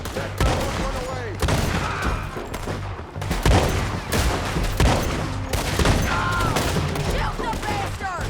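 Rapid gunfire fills a Red Dead Redemption 2 shootout, with dense overlapping shots and booms throughout, loud and continuous, while voices shout over the battle.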